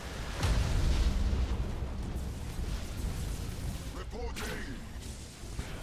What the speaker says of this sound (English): Full broadside there on the Necron flagship.